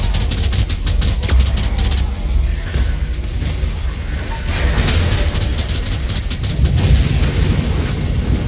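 Bomb blast in the video game Saints Row IV, a loud, dense rumbling burst of explosive noise with crackling debris that stays heavy throughout, with no talk over it.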